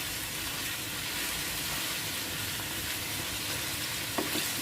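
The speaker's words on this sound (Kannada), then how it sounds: "ಇದು ನೋಡಿ, ಒಗ್ಗರಣೆ ಕೈ ಆಡಿದ್ದೀನಿ ಸ್ವಲ್ಪ." Tempering (oggarane) for brinjal palya sizzles steadily in a generous amount of hot oil, a continuous dense frying hiss with a faint clink near the end and no talk.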